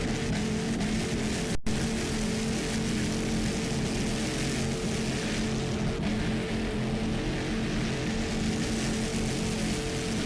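A 38-foot Fountain racing powerboat with two 500 horsepower inboard engines in a Super V Light twin-engine class race off Key West gives a loud, constant, droning engine roar that holds steady throughout, with no talk.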